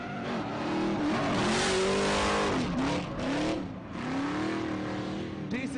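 A Chevrolet Camaro drift car at a Formula Drift qualifying run howls through rising and falling engine revs with squealing, smoking tyres, loud and continuous as it swings high on the banking.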